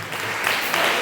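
A church congregation claps loudly during a worship service, a brief, dense, even burst of many hands that grows slightly stronger toward the end.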